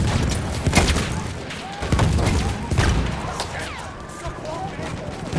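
Incoming mortar fire in Battlefield 1, with dense rumbling booms and thuds rolling continuously beneath people talking over the chaos.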